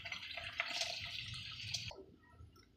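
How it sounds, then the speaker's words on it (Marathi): Water is poured into sautéed masala in a cooking pan, a steady splashing, hissing pour for about two seconds that stops abruptly, then a faint quiet sizzle. "त्याच्यात पाहिजे तेवढं पाणी टाकू"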